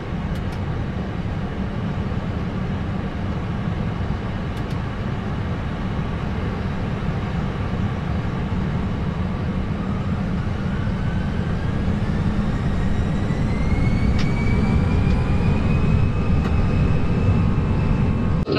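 Inside the cockpit of an Airbus A320 on its takeoff roll, a steady, loud engine and airflow roar rises gradually, with a faint climbing whine, and no talk is heard over it.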